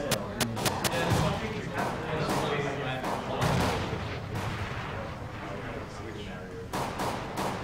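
Gunfire and decoy grenade shots in Counter-Strike: Global Offensive on the Mirage map during a match, sharp rapid cracks in bursts over a busy mix, with commentators talking throughout.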